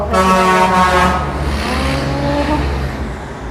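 Loud, steady roadside traffic with vehicles rushing past close by, engines droning and a car horn sounding near the start.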